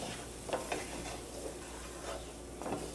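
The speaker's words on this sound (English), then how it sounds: "let that meat soak up those spices. Okay, we've let that cook about 2 minutes." Ground meat with chili powder and spices cooking in a pan, a steady low sizzle and fry close by with a few soft stirring scrapes, no talk.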